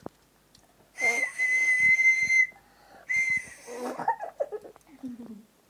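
A girl whistling close by in two long, steady, clear high tones separated by a short pause, followed by a few short squeaky vocal sounds.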